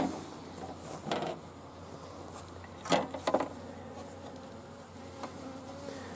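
Soft, steady honey bee buzzing at a hive with a few louder passes close by, no talking.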